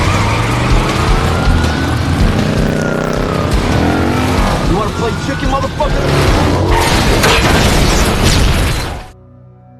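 A film chase scene: a Harley Davidson motorcycle pursues and rams a car, with roaring engines, skids and crashing impacts, loud and dense. Someone shouts a line partway through, then the sound cuts to near silence.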